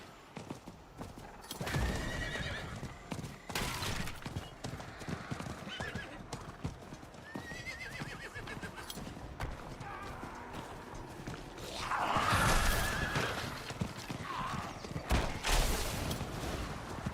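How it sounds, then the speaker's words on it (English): Horse hooves clip-clopping at a steady galloping rhythm with occasional whinnies, ridden across terrain in the video game Diablo 4, loud and close with game effects swelling midway. "Riding the horse should be faster than this."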